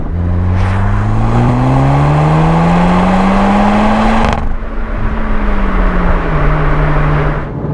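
A VW Golf GTI Clubsport S engine revs hard under full throttle near its rev limiter, pitch climbing steadily to a high whine, then briefly dropping at a gear change before pulling again, loud and continuous.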